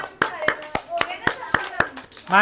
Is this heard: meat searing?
no